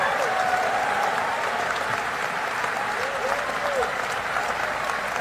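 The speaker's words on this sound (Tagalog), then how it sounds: "Nagpalakpakan yung iba." Audience applause during a presidential State of the Nation Address in the Philippines, a steady, dense wash of clapping that continues evenly throughout, with faint crowd murmur underneath.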